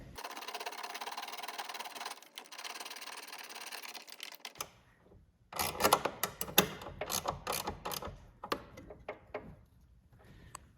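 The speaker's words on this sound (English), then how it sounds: "And then I'm gonna start to put this bolt in." A bolt being refitted on a Porsche 911 (991) engine deck lid, heard as a stretch of steady noise followed by a series of close, sharp metallic clicks and taps in uneven rhythm.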